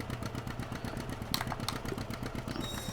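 An old John Deere tractor in Farming Simulator 17 runs with a steady, rhythmic, low chugging engine beat that continues evenly throughout, with no talking over it.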